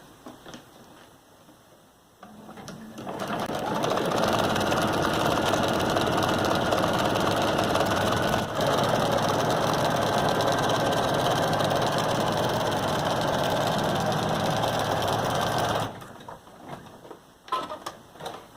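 A sewing machine stitches a tote made from a feed bag. The steady, close mechanical whirr runs for about thirteen seconds after a quiet start, then stops, and no one speaks.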